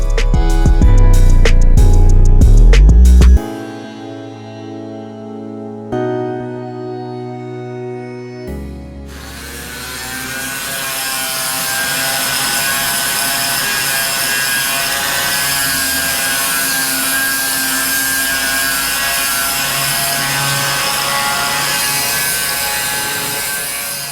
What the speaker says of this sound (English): we're just gonna grind this down for now